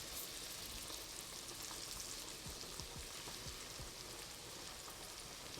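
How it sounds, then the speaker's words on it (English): Shrimp sizzle steadily in a hot pan for shrimp scampi, giving a dense, even frying hiss close by, with a few faint pops and crackles and no talk. "now I'm gonna add my shrimp in. And I'm gonna cook it for about a minute on each side."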